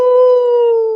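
A single sustained, wavering wolf-like howl imitated by a human voice, loud and close, holding steady before tapering off at the end with no other sound.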